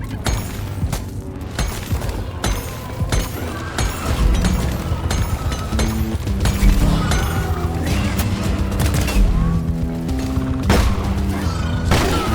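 A double-barrel shotgun booms repeatedly in Deep Rock Galactic, sharp heavy blasts spaced irregularly amid crashes, thuds and a driving music track.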